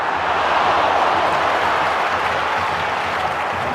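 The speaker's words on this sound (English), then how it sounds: "The crowd certainly think so. Just listen to them." A stadium crowd in the FC Mobile football video game roars in a steady, loud wash of cheering and applause that holds without a break and with no commentary over it.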